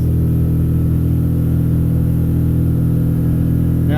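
Outboard motor on a Defiance 250 boat accelerating, a loud, steady droning roar that holds constant throughout with no voices over it.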